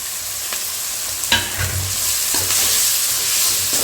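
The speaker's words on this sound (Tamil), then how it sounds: "சேர்த்து நல்லா வதக்கலாம்." Onions and curry leaves sizzle in a hot pan while a spoon stirs and scrapes through them, with a steady frying hiss broken by a few sharp stirring clatters.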